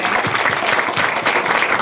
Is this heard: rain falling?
no